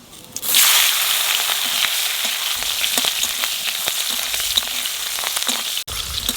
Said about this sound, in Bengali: লঙ্কা কটা একটু ভেজে নিলাম